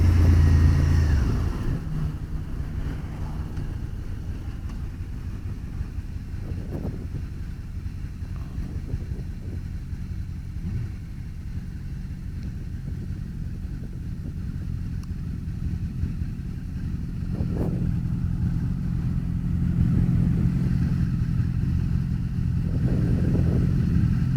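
Suzuki SV 650 motorcycle engine heard from the rider's position while riding, a steady low drone with wind rush that swells slightly toward the end, with no talk over it.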